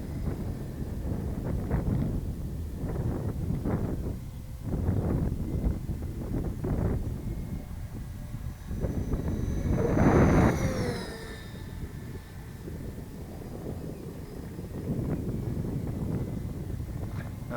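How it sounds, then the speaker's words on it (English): A FreeWing ME262 RC jet model plane flying on 6S power at a little above half throttle whooshes past outdoors, swelling to a loud pass in the middle amid gusty wind noise on the microphone. "get a little above half throttle"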